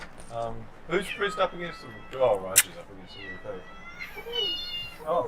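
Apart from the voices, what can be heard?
cat meowing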